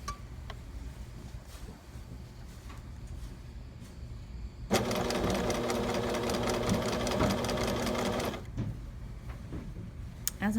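Sewing machine stitching a sleeve facing in fabric, running in a steady loud burst from about 5 to 8.5 seconds amid quieter handling noise before and after.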